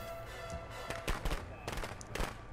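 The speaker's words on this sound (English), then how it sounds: "That gives me 200 for tossing a firecracker." A firecracker bursts in the Friday the 13th game, a cluster of sharp crackling pops spread over a couple of seconds, loud and close against a steady background hum.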